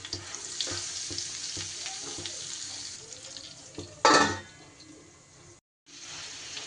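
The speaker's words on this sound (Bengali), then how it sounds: "নুন আর হলুদ দিয়ে আমি আলুগুলোকে একটু ঢাকা দিয়ে দিয়ে ভেজে নেব" Potatoes frying under a lid in a pan with turmeric and salt, a steady close sizzle with a louder burst of hissing and stirring near the end, then a brief drop to silence before the frying resumes.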